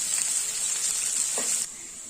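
Onions frying in oil until crisp for Kolkata-style mutton biryani, a steady close sizzling hiss that continues for most of the clip and then drops away near the end.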